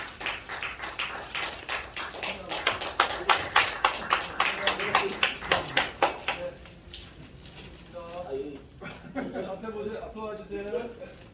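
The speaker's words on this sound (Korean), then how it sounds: "박수로 함께 영광 드립니다" An audience at a church gathering claps in a run of rhythmic, fairly close applause that fades after a few seconds, and voices then speak over the dying claps.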